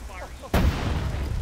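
A loud, close blast from an RPG in the Arma military video game, a single booming explosion with a rumbling tail, following quieter talk between players over a radio.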